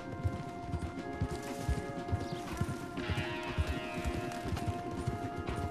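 Rhythmic hoofbeats of horses galloping in the video game Red Dead Redemption 2, steady and fairly loud, with a thudding clip-clop pattern throughout and no talking.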